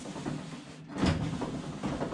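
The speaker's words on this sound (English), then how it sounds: "Window moves up and down nicely still." Door window on a 1952 Ford F1 pickup being wound up and down, a faint, steady scraping and sliding with a slightly louder rub near the middle, heard alone at close range.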